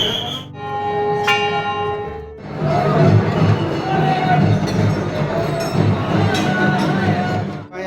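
Dense murmur of a pilgrim crowd at the Baba Baidyanath temple in Deoghar during the Shravan pilgrimage, swelling after a couple of seconds of ringing temple bells and holding as a steady, close, loud wash of many voices to the end.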